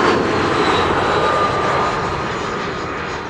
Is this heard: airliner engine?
yes